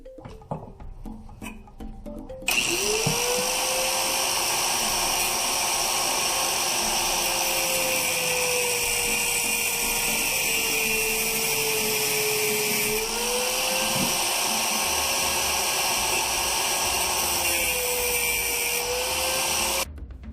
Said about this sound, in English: Using the grinder made a mess and I was nervous for my finger